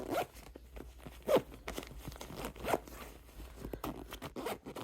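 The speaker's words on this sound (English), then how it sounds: "we'll zip that part up" A carry-on hanging organizer compartment holding a puffer jacket is zipped closed, several quick rasping zipper pulls in close succession, near and clear, with light fabric rustle.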